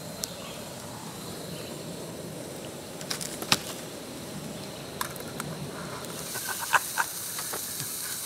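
A New York strip steak sizzles in a skillet at an outdoor backpacking camp: a steady, faint hiss with scattered small pops and crackles, heard alone.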